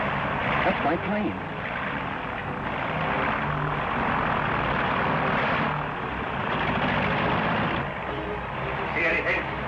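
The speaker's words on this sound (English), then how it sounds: "That's my plane." An airplane drones overhead in a steady rumbling hum that swells and fades slightly across the clip, with voices speaking over it at times.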